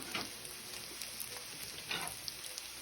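Panko-breaded pork chops fry in olive oil in a pan, giving a steady, fairly quiet sizzle and crackle throughout with no talking.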